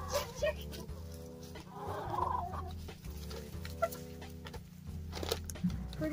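Bresse chickens cluck and murmur softly in a pen, quiet, scattered calls over a low steady hum, with occasional rustling and a few sharper squawks near the end.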